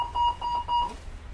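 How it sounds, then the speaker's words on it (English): A call-for-aid button alarm in a train's saloon wheelchair area sounds as a steady electronic tone pulsing in three short, even beeps, close and clear, then stops. "If you hear either of these two alarm tones, investigate immediately."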